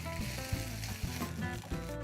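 Cooked rice tossed into a hot pan with red chili, curry leaves, split black gram, mustard seeds and peanuts sizzles steadily, with a few soft stirring knocks.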